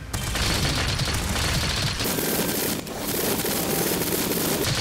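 A light bowgun fires a rapid run of shots in Monster Hunter Rise: Sunbreak, with dense, evenly paced blasts for about two seconds, then a lighter stretch of impacts and game effects.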